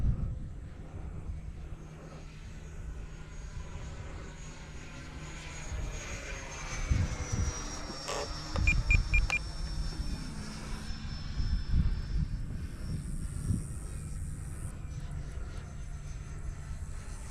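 A Freewing F-4 Phantom 8S RC jet flies overhead with a steady electric ducted-fan whine. It swells and fades as the model passes, and it is heard alone with no voices.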